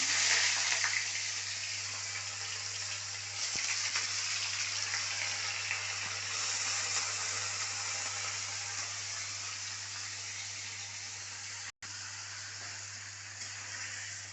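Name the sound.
paneer frying in hot oil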